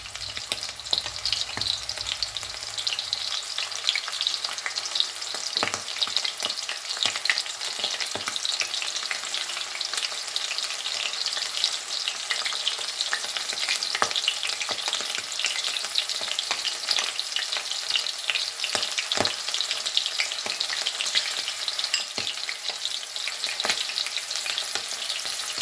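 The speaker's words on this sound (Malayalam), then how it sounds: "നമുക്കിതൊരു 2 പ്രാവശ്യമായിട്ടൊന്ന് വറുത്തെടുക്കാം കേട്ടോ." Prawns for prawn 65 fry in hot oil in a pan, giving a steady, dense sizzle with crackling pops throughout, loud and close, with no voices.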